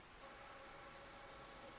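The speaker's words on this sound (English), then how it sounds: "Starting with rain." Rain in an anime episode, a soft, steady hiss of falling rain with no voices, quiet and even throughout.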